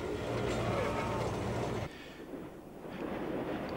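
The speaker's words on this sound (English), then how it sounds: "Followed by electric locomotive number 16," A 1950s Metropolitan Railway electric locomotive, number 16 Oliver Goldsmith, passes with a loud, close rumble and rattle that breaks off abruptly about halfway through, leaving a quieter, fainter running noise.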